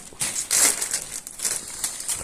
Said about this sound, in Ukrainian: Отака от розпаковка.